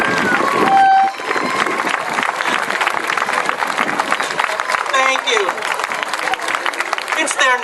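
A graduation crowd at a high school ceremony breaks into applause, a busy, uneven patter of clapping with cheers and whoops mixed in and a few shrill whistles or horn-like toots cutting through near the middle.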